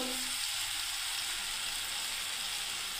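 Vegetables for a pointed gourd and yogurt curry fry in a pan with a continuous, even hiss of sizzling oil, steady and moderately loud throughout.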